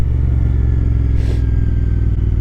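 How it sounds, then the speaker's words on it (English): A motorcycle engine braking, a steady low rumbling drone with a faint whine and a brief rushing swell in the middle, heard close and loud without talk. "Really falling in love with engine braking again."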